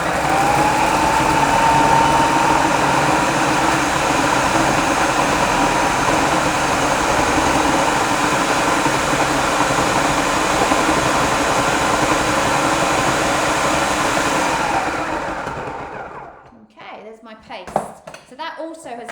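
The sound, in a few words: food processor whizzing oats and seeds into paste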